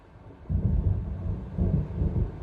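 Thunder from an approaching storm in Alan Wake Remastered, two deep rolling rumbles in succession, heavy and low, swelling then fading over a quiet background with no talk.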